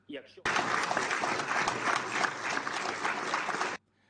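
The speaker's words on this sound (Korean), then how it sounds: "젤렌스키 우크라이나 대통령 연설에 안보리 이사국들은 박수로 격려했습니다." Applause from Security Council members for a speech by Ukrainian President Zelensky, a dense steady wash of many hands clapping for about three seconds after a brief moment of talk, then stopping abruptly.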